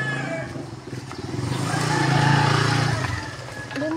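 A motorcycle rolls down into a parking area, its engine puttering at low revs and swelling slightly mid-way before easing off, close by, with faint voices around it.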